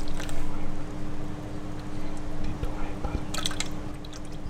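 Liquid coffee panna cotta mixture is strained through a sieve, giving a soft, continuous trickling and pouring sound close by, with a few faint clinks near the end.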